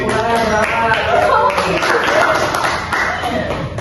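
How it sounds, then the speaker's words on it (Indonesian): A class of students claps together during an Indonesian Islamic studies lesson. The rapid, overlapping claps are loud and close, with voices talking over them. "Tepuk tangan."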